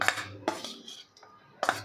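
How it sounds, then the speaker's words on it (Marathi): Chutney mixture of fried chana dal being put into a mixer jar, a few clinking knocks of a spoon against the metal jar with scraping between them, close and fairly quiet. "त्या भांड्यामध्ये आपल्याला हे सगळं मिश्रण घालून घ्यायचं आहे"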